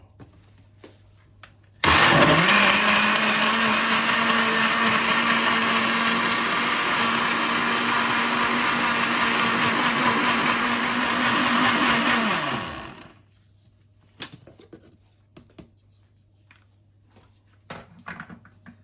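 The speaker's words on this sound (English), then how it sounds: "I'm just gonna whip up this in my blender." A blender mixing sweet potato punch starts abruptly, whirs loudly and steadily for about ten seconds, then cuts off, leaving a few faint clicks and quiet afterward.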